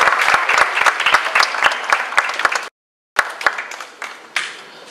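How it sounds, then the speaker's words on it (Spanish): An audience at a suicide prevention training session claps loudly and evenly, dense applause from a nearby crowd that stops abruptly, then resumes more sparsely and fades to scattered claps. "Un fuerte aplauso para Ezequiel, ¿verdad?"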